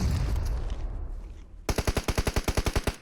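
Gunfire in the battle royale game PUBG Mobile: after a loud, noisy stretch, a rapid burst of about a dozen evenly spaced automatic shots rings out sharply and close.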